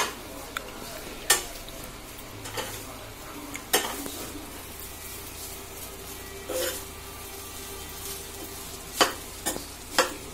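Schezwan fried rice is stirred in a large kadhai, with sharp spatula clanks every second or two over a continuous sizzle of frying, and a faint voice is heard now and then.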